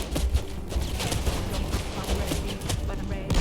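Dense, continuous gunfire from a video game crime spree against snipers, a muddy wall of overlapping shots and booms that stays loud throughout with no pauses.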